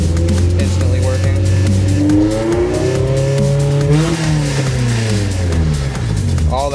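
A car engine revs hard during an OBDLink scan-tool diagnostic check, its pitch climbing and falling in loud, close sweeps with a rough exhaust rasp throughout.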